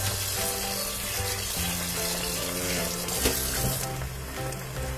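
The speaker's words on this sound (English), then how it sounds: "So let's wash this one out now." A dish is rinsed under a running kitchen tap, with a steady, close hiss of water and splashing that shifts as the dish moves through the stream.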